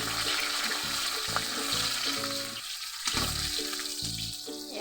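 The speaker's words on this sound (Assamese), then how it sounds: "এয়া মই দিলোঁ পাঁচফোৰণ কেইটামান, লগতে দিলোঁ এয়া কেঁচা জলকীয়া 2টামান আৰু পিঁয়াজ এয়া তেলত" Panch phoron, a couple of green chillies and onion hit hot oil for an Assamese taro-leaf curry. A bright, busy sizzle carries through the clip over steady tonal background sounds, briefly thinning near the middle. No speech.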